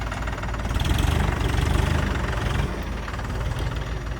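A John Deere tractor engine runs loud and close with a steady, throbbing diesel chug that swells slightly before settling back.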